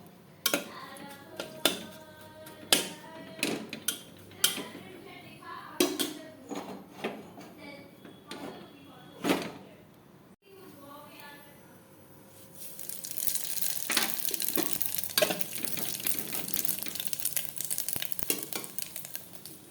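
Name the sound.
chili, black cumin and radhuni frying in oil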